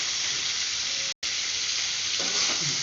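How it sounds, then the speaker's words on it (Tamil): Bitter gourd sautéing in hot oil with salt, a steady close hiss of frying throughout, with a brief break and a few stirring scrapes near the end, no voices. "பாவக்காய்க்கு உப்பு சேர்த்து வதக்கு நல்லா வதங்கும்"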